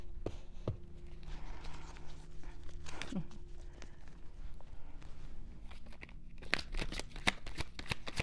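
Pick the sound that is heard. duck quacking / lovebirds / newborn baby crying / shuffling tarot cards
shuffling tarot cards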